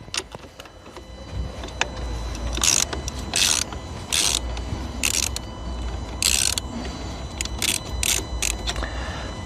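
Loosening a vehicle battery terminal nut with a ratchet tool, heard as a series of short, sharp metallic clicking bursts in an uneven rhythm over a low background hum, close to the mic.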